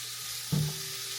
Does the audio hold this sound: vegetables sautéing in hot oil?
yes